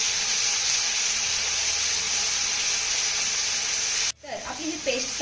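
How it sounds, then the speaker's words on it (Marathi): Ginger garlic paste frying in hot oil, a steady loud hiss and sizzle running without a break for about four seconds, then cutting off abruptly as stirring clatters in. "आता ही आलं लसूणची पेस्ट ना आपल्याला 1 ते 2 मिनिटं चांगली परतून घ्यायची आहे."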